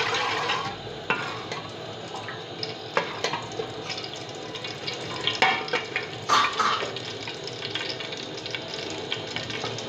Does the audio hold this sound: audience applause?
no